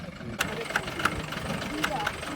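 A vehicle engine idles steadily in the background with a low, continuous rumble, overlaid by a few sharp knocks and clicks, while people talk nearby.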